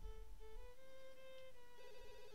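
A phone keeps ringing in The Sims 2. The repeated electronic ring pattern runs for over two seconds at moderate level over quiet ambience, with no talk.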